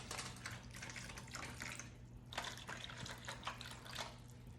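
Wine poured over a brisket being prepared for a kosher Passover sweet and sour dish, a steady liquid trickle and splash running for several seconds with brief pauses, close and moderately quiet, no talking.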